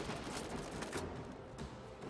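Rapid video-game gunfire from a Borderlands battle rattles continuously, with dense, steady bursts of shots at close range throughout.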